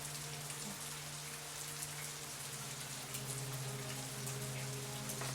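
Steady rain falls in the Fatal Frame 3 video game, a dense, even patter that continues without a break and with no voices over it.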